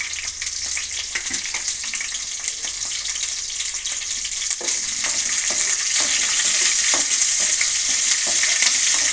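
Chana dal fries in hot oil in a pan with a steady, close sizzle and light stirring, the crackle growing louder and denser partway through, with no voices.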